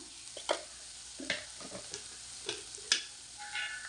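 Sliced onions with salt, turmeric and curry leaves stirred in a frying pan for an okra curry, soft sizzling under a handful of distinct spoon scrapes and taps, close and without talk.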